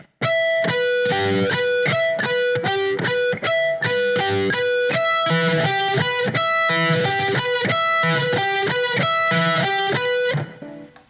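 Distorted electric guitar playing a slow, steady run of sweep-picked arpeggios, each note distinct and sustained, with no voices over it.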